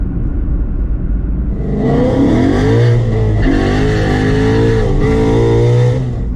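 A 2020 Nissan GT-R runs steadily down the road, its engine a smooth, fairly loud drone that rises slightly in pitch, heard close from inside with no talk.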